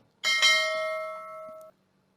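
A single bright bell ding rings out clearly and alone, its tone sustaining for over a second before cutting off abruptly, with no talking over it.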